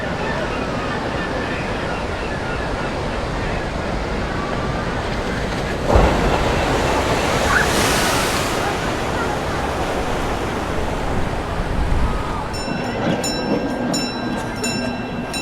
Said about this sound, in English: There goes the red transport train just outside of the Spanish themed area of the park